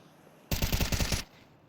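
Rapid automatic gunfire from a Counter-Strike match, players pre-firing an angle in a competitive ESEA game; one loud, dense burst lasting under a second, standing alone.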